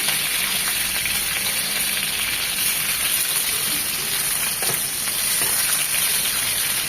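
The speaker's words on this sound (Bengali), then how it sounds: "যে কোনো মাছ রান্নার জন্য আমরা যদি ভাজি একদম হালকা করে ভেজে নেব" Shol fish frying lightly in oil in a pan, a steady close hiss and crackle of sizzling that runs evenly throughout, with no talking.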